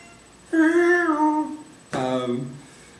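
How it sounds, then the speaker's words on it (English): Two meows from a cat, a long drawn-out one followed after a pause by a shorter one, close and clear against a quiet background. "That cat again."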